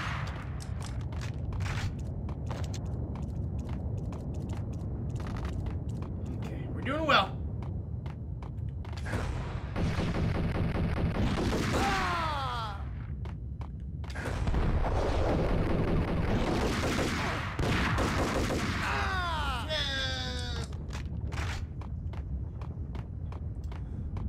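Shotgun blasts and gunfire in a Max Payne shootout on PS4, with sharp bursts scattered over a dense, continuous game soundscape and swelling loud passages, no talk over it.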